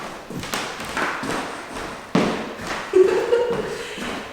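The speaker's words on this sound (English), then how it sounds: "So they are very creaky, so I'm sure you guys are gonna hear that as I'm walking around." Footsteps with shoes on across creaky original 1950s wooden floorboards in an empty house, a few close thuds with a drawn-out creak, no voices heard.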